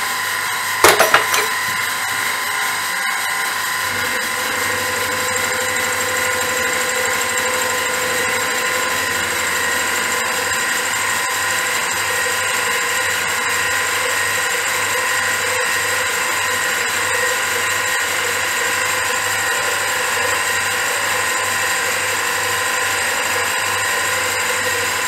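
Continuous whining machining on a waste oil manifold taking 1 millimeter cuts, a steady high tonal drone with a few sharp knocks at the start, loud and unbroken.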